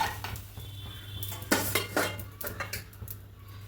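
A green gram dosa is lifted off a pan with a metal spatula, heard as a run of close, sharp scrapes and clinks against the pan over a low steady hum, with no talking.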